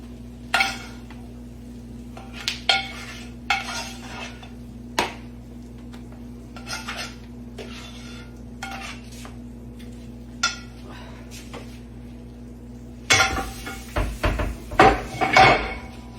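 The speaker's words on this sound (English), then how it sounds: "You spread it out on this pan." Hot peanut brittle being spread across a rimless cookie sheet, giving sparse scraping and tapping clicks of a utensil on metal over a low steady hum, ending in a louder burst of clattering pan handling.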